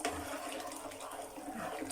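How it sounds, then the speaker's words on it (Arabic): Hot water poured from a kettle or jug onto a tray of rice with tomato sauce before it goes into the oven, a steady close splashing pour running continuously without talk. "شكله هيعوز طبعا ميه تاني. وعندنا ميه سخنه اهو"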